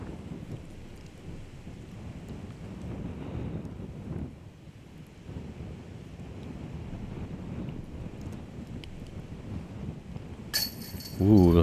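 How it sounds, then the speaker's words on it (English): Strong wind on a golf course buffets the microphone in rough, rumbling gusts throughout, with a faint voice beneath and a sharp electronic chirp at the very end. "just baffled at this wind"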